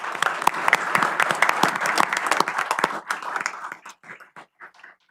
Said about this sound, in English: I'd like to give another round of applause for our police department